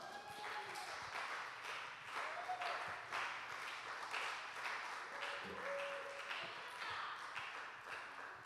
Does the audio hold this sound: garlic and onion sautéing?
no